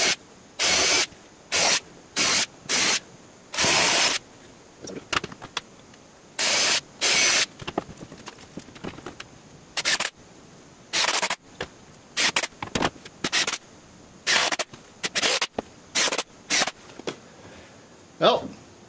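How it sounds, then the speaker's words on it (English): Power drill boring holes and driving screws into vinyl siding J channel at an outside corner, heard as repeated loud bursts of whirring, each a second or so long, separated by short pauses. "All I need to do now is get these holes drilled, put some screws in"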